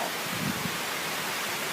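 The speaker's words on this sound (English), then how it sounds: "You can't see it on camera, but rain is shooting." Hurricane Laura's rain in Alabama shoots down in a dense, steady hiss that completely fills the short stretch, with no breaks or distinct drops.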